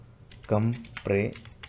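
Someone types a file name on a computer keyboard while someone talks over it, his voice dominating the brief moment and the key taps staying in the background.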